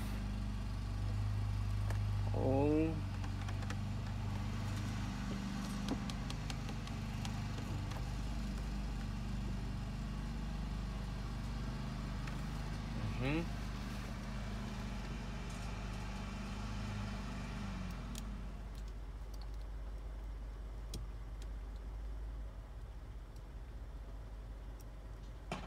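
Ford F-150 with its 3.5L engine idling steadily nearby, a continuous low hum with faint ticking, and no talk.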